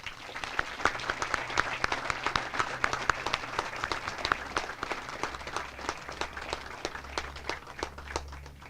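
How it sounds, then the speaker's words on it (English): A crowd at a military graduation ceremony gives the awardees a long round of applause, dense overlapping clapping heard from some distance, steady and even throughout, with faint low rumble beneath and no voices. "please join me in giving our awardees a round of applause"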